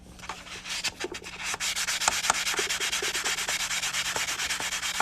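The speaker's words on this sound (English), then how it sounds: "We're going to go ahead and sand this cut edge down." Rapid, rhythmic rasping of hand sanding with a sanding block on the cut edge of a coin ring, close and steady, with quick back-and-forth strokes after a few hesitant starts.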